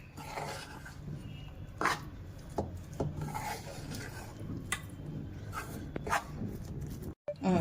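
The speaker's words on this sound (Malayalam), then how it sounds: "ഇതെല്ലാം ഇളക്കി കൊടുക്കാം." A spoon stirs a cornflour mixture for malai kofta, making faint, uneven rubbing and scraping strokes with a few sharper knocks against the bowl, close by and quiet.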